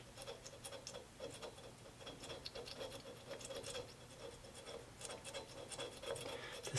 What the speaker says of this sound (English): So scraping with a razor blade